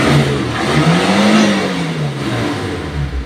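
A Suzuki Espass pickup engine revs up close as the throttle opens, the note climbing and then easing back in a single smooth, loud rise over a steady idle.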